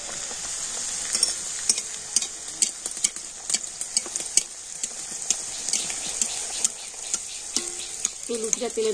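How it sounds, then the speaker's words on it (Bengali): Luchi puffing in hot oil while a spatula spoons oil over it, a steady close bright sizzle broken by frequent sharp scraping and ticking taps of the spatula against the pan. "লুচিটা তেলের মধ্যে ছেড়ে দিয়ে আর এইভাবে খুন্তি করে একটু হালকা করে তেল ওপর দিয়ে দিয়ে দেবেন।"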